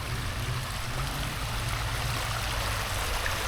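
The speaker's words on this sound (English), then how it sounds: "there goes the waterfall flowing off the rock" A garden waterfall spills off a rock in Jefferson, Texas, making a steady, even rush of flowing water that continues unbroken throughout.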